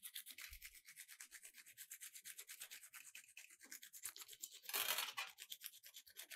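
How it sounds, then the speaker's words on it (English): Sandpaper rubs back and forth over insulated wire in a steady, rapid scratching rhythm, faint and close, with one harsher, louder stroke near the end. "when I am going to scrape it by using a small bit of a sandpaper"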